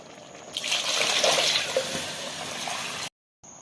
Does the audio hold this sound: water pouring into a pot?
yes